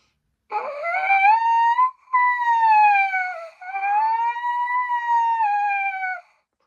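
A trumpet plays a siren effect, three long sliding tones swooping up and down in pitch like an emergency siren, with brief breaks between them.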